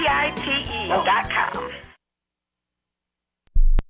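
Dog yips and bow-wow barks from a radio advertisement for Dinovite dog food, several quick barks over the first two seconds, then silence and a brief loud low thump at the end.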